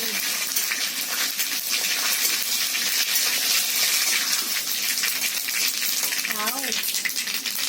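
A pot of sambar bubbles and sizzles on the stove, a steady hissing, spattering boil with brief voice-like tones toward the end.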